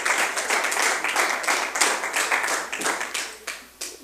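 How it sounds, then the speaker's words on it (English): Clapping from attendees at a community meeting about the Ookala dairy, a fairly close, uneven crowd of hand claps that tapers off in scattered last claps. "don't exactly know what the clapping's for"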